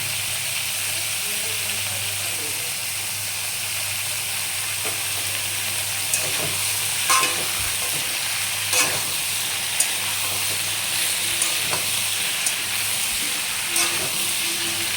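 Papaya and potato pieces fry in a pan for a vegetarian curry, with a steady loud sizzle and occasional scraping stirs and clinks over it.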